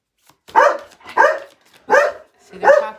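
A dog barks four times at an even pace, each bark close and loud with short silent gaps between them.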